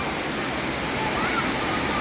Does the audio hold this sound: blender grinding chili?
no